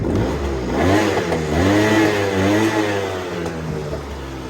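A Honda Dio AF-34 scooter runs loud and close, its small two-stroke engine rising and falling through several revs with a buzzing, warbling note, then settling back toward idle.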